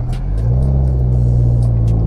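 A manual car labors uphill under acceleration, its engine giving a loud, steady low rumble that builds slightly and holds for about two seconds, with no talk over it.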